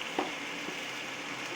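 Onion and tomato gravy fries in a pan with a steady, faint sizzle throughout, marked by a couple of brief stirring scrapes near the start.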